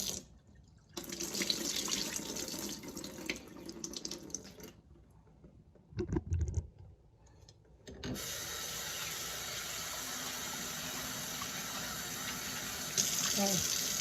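Food is washed by hand under running tap water while preparing an Indian meal, with splashing and rubbing, a brief pause in the flow, then a steady stream that runs to the end.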